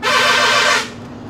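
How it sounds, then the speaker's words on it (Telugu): A truck's horn gives one loud, sustained blast on a narrow, muddy rain-soaked road, then cuts off, leaving a low engine rumble. "ఎందుకైనా మంచిదని నేనే హార్న్ కొట్టు కూడా పోతుంది."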